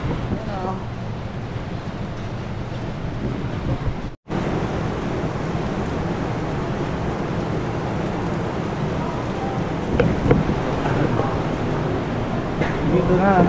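Steady, loud rain hisses across the whole stretch during a motorcycle ride on a Honda ADV 160 around Marinduque, with a dense wash of drops and wind noise and a brief dropout near the middle.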